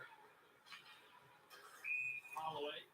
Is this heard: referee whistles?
yes